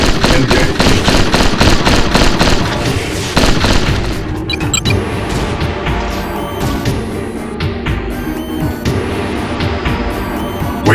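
A group of mechs fires weapons together in the 1997 game Heavy Gear, with a rapid string of loud, punchy blasts that thin into scattered, ringing impacts and metallic clanks over a low rumble.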